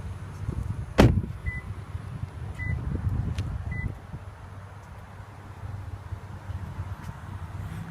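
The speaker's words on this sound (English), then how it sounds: "now let's pop the trunk and see how much cargo space it offers" A sharp latch thunk releases the trunk of a 2015 Lexus RX 350, followed by three short electronic beeps and a soft powered hum as the liftgate rises outdoors.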